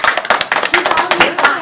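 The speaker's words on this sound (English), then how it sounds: "Big round of applause." Audience applause at a school biography presentation, a steady patter of many hands clapping at moderate loudness, with voices mixed in underneath.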